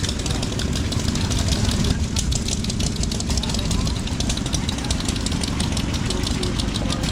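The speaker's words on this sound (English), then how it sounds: "That's a 1915 model engine right there." A 1915 model antique engine runs at a farm show at the Missouri State Fairgrounds with a steady, rapid mechanical chugging and knocking over outdoor crowd noise. People talk faintly in the background.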